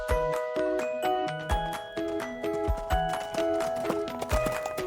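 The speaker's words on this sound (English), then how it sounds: "I'm a horse." Horse hooves clip-clop in a steady, even trot, set against bright, tinkling background music at a moderate level.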